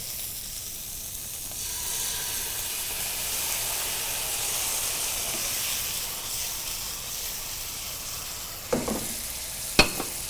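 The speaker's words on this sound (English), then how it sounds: "And now we're gonna add some tomato sauce." Tomato sauce poured into a pan of sausage and peppers sets off a continuous loud sizzle and hiss of frying, with a few brief clinks of utensils near the end.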